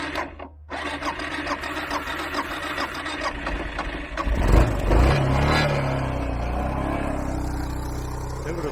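An adventure motorcycle engine, helped by a spray of aerosol deodorant, cranks with a rapid, rhythmic starter whir, then catches with a loud burst and settles into a steady idle, heard close by.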